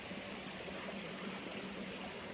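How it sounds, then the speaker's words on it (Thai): A flowing stream gives off a faint, even wash of water noise, continuous and unbroken, heard from a little distance with no voices over it. "เป็นแหล่งน้ำไหลอ่ะผมชอบมากๆเลย"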